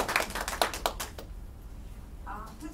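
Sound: clapping for the poets

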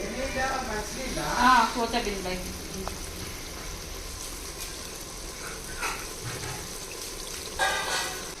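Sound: chicken pieces cooking in masala, sizzling

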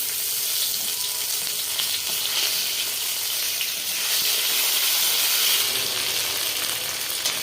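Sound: koi fish frying with onion and chili paste

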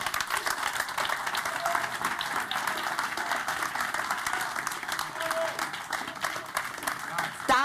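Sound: audience applause for a press award

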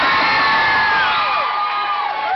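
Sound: audience cheering at concert

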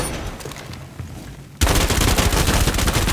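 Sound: gunfire in video game Rainbow Six Siege

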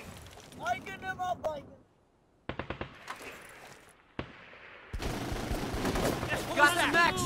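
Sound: suppressing gunfire in the video game Full Spectrum Warrior

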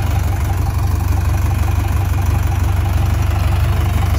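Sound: tractor engine idling with heavy sprayer attached

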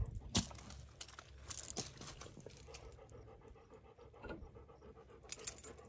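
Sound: dog panting

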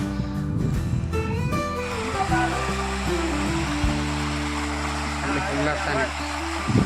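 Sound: water flowing in a canal

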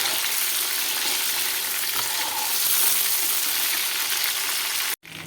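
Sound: mutton pieces frying in a pan

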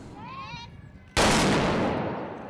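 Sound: blunderbuss (trabuc) gunshots at a trabucaire gathering

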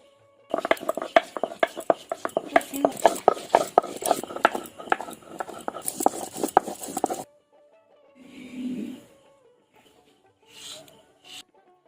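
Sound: grinding bitter ali leaves with water on a grinding stone

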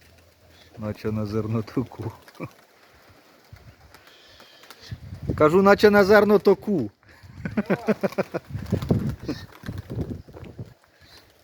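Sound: flock of pigeons cooing

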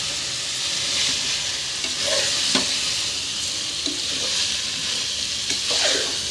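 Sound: mixing biryani rice into the frying masala

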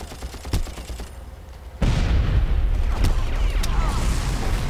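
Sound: gunfire in the video game Special Force 2

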